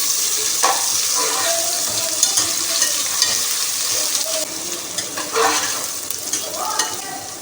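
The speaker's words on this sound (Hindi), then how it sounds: "अदरक लहसुन का पेस्ट हम ऐड कर देते हैं।" Ginger garlic paste frying with browned onions in hot oil for beef pulao, a steady close sizzle with repeated stirring scrapes throughout.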